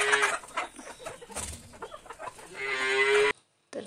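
Chickens clucking on a dairy farm among cattle, busy overlapping clucks and calls nearby, with a longer drawn-out animal call near the end before a brief silence.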